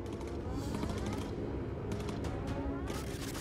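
Gunfire from the turret gunners of a bomber in Bomber Crew, a dense, steady rattle of rapid shots over constant engine drone, with sharper bursts standing out briefly.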